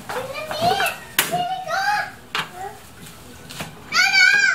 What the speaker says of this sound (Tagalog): Medyo maingay po yung mga bata.